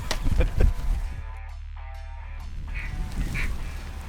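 Sandhill cranes calling in a Texas field during a hunt, giving a few loud rattling calls close by at the start, then fainter calls later over steady low wind rumble.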